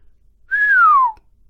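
A single clear whistled note, loud and close, that starts steady and then slides smoothly downward in pitch before cutting off, with silence on either side.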